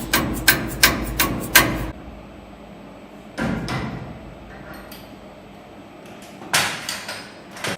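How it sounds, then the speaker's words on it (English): A dead blow hammer taps a workpiece clamped on a Syil X5 CNC mill, giving a quick run of five dull knocks, then a few more spaced knocks, all close by in a quiet workshop. "A few taps with the dead blow hammer takes out any small gaps."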